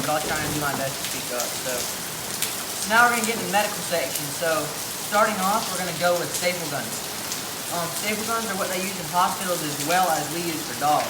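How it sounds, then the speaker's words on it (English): Steady rain patters on an outdoor surface with a constant broadband hiss throughout, while someone talks continuously over it, his voice clearer and nearer than the rainfall. "it started raining"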